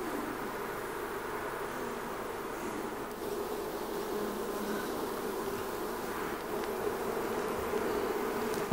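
Bees swarming in a nest inside a hollow tree stump during a removal with a bee vacuum, a dense, steady, close buzzing hum that carries on unbroken throughout, with no voices.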